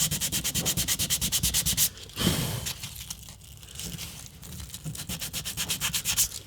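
Hand sanding of a prop part for a shotgun replica, using folded 220-grit sandpaper: rapid, rhythmic back-and-forth rasping strokes, close and steady, with a short pause in the middle before the strokes resume.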